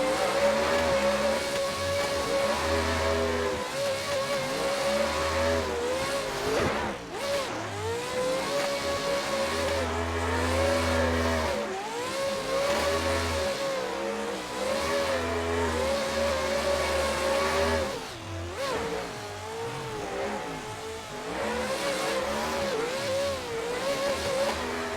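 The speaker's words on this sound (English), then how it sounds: "let's take a look at this lead run leading this guy in this Mustang" Drift cars on a lead run at a drifting event, one a Mustang following, with loud sustained engines revving, bouncing off the limiter and swelling through repeated throttle changes, plus tire squeal, for the whole stretch.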